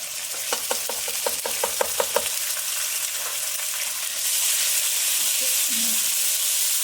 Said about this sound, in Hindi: इसको अदरक लहसुन पेस्ट डाल के 1 मिनट तक भून लें।